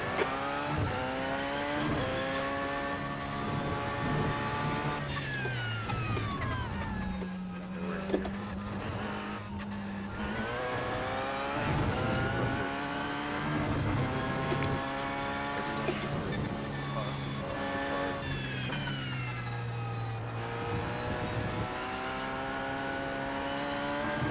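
Race car engines whine and shift through gears in iRacing at Le Mans, a steady rising-and-falling drone with another car closing in from behind, mixed with talk throughout.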